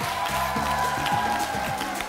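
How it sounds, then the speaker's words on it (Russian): Sustained applause from a studio crowd at a live televised lottery draw, steady and fairly loud, with a low musical tone running underneath. "Аплодисменты зрителей студии."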